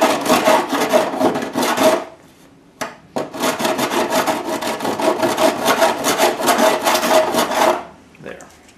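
Rasp filing on a Honda Elite 250 scooter part, rapid rhythmic scraping strokes in two long bursts, close and loud, with a pause and a single knock between them.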